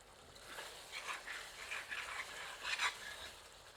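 Chicken cooking in yogurt and ghee while being stirred, soft wet scraping and squelching strokes in uneven bursts over a low sizzle, close and fairly quiet, no talk.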